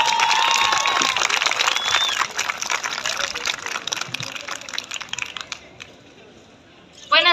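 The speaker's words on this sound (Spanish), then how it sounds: "la señorita Marta Azucena Vázquez Arellano, a quien le brindemos un aplauso, por favor, para esta bella chica." Applause and cheers from the audience at a young women's pageant swell loudly and then thin out and fade over several seconds, with some shouts mixed in and a brief loud burst near the end.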